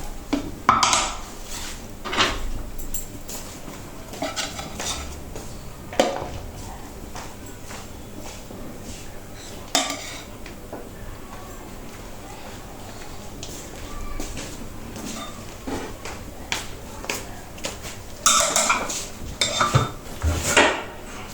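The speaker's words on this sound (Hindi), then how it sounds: "अभी हम इसको डिश आउट करेंगे और आपको दिखाएंगे" Metal spoon clatters and scrapes against a cooking pot while chana pulao rice is served out, with irregular clinks and knocks at close range, louder bursts near the start and end, and no talk.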